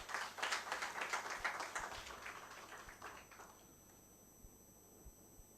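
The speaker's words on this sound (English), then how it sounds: "Let us give a big round of applause to him." An audience at a moot court competition's valedictory ceremony claps, a faint, steady patter of applause that fades away over a few seconds, with a thin electronic whine running in the background.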